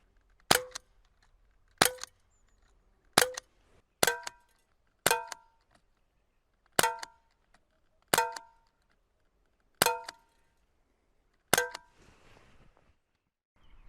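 A KWC M-11 airsoft BB pistol is fired from a rest, nine sharp snapping shots spaced about a second or more apart, each with a brief metallic ring, clear and close with near silence between.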